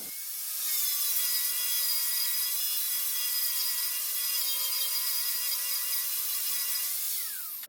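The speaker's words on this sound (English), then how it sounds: "I wanted to practice the angle grinder and try to sand grind all of that because I had two of these old rusty plates" An angle grinder grinds rust off old steel plates, a steady, loud high-pitched metallic whine with dense harmonics. It holds almost constant for about seven seconds before cutting off abruptly.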